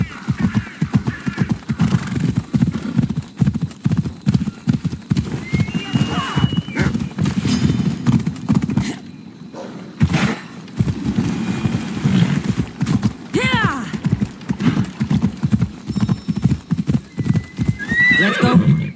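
Horse in Assassin's Creed Odyssey galloping with fast, rhythmic hoofbeats, neighing and whinnying loudly several times, with a short break in the hooves partway through.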